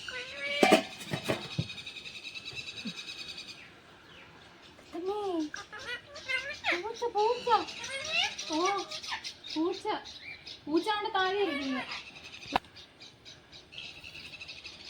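Several short meows rise and fall in a quick series, close by, with a person talking over and between them and some clattering early on.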